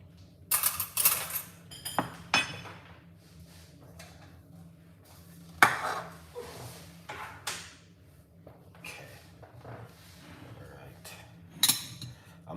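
A kitchen knife and utensils handled on a counter, scattered sharp clinks and clatters rising and falling over several seconds, with a faint voice talking at times.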